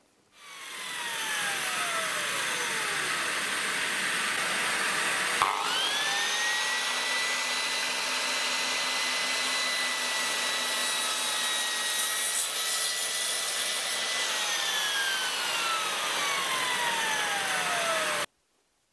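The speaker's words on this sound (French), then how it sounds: "je termine le réglage du laser en faisant une coupe à mi-bois" A Metabo KGS 216M miter saw spins up, cuts a half-lap notch in wood and winds down, its motor whine loud and near, sliding and pitch-shifting through the long cut before slowing at the end.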